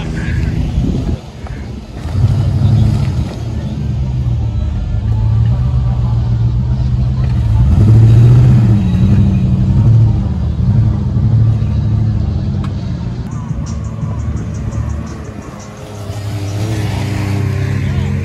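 A Jeep engine drones and revs while driving a snowy, icy off-road trail in the Big Bear mountains, loud and close inside the cabin with wind buffeting and bursts of acceleration; people talk over it.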